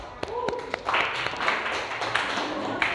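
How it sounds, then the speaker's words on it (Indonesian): Scattered applause in a classroom, a few sharp claps followed by a brief burst of group clapping, with a voice speaking over the start. "Ya, beri aplaus."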